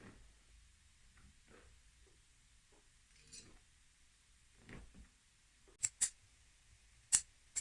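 Upholstery fabric being cut on a sofa arm, faint snips and rustles followed by a few sharp clicks of scissors, quiet and close with no talking.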